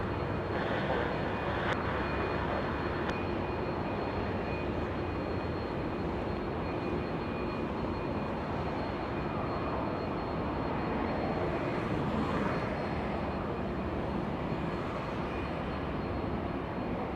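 A large airliner passes overhead while landing on a runway at Los Angeles International Airport, a continuous broad jet roar heard from a distance that holds steady throughout.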